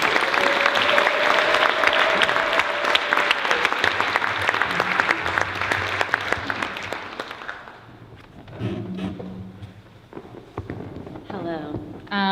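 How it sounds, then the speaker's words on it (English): A crowd at a citywide teach-in on saving Chinatown claps steadily and loudly for several seconds, then the applause fades and a voice begins speaking. "Let's clap our hands as they come."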